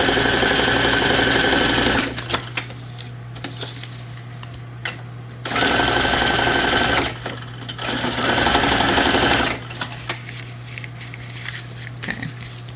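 Three loud, close bursts of a sewing machine stitching junk journal paper tags, each a steady whirring run of one to two seconds, with quieter rustling and handling of paper in the pauses between.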